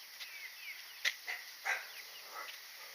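Dog barking in a village, a few short barks at moderate distance against a steady background hiss, with a bird chirping faintly.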